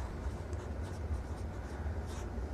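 A pen scratching steadily on paper during a math lesson, faint continuous strokes with soft rhythmic scraping, close and alone.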